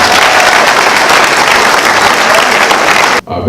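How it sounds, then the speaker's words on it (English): A large graduation audience claps loudly and continuously, a dense roar of applause that cuts off abruptly near the end. "you deserve a lot of applause"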